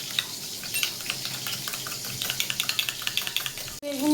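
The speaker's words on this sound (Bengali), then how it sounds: "বেগুনগুলো ভাজা চলছে।" Brinjal (eggplant) slices fry in oil, giving a steady close sizzle with small crackles and pops that carries on without a break, then stops abruptly near the end, when a brief voice is heard.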